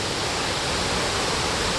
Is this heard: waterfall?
yes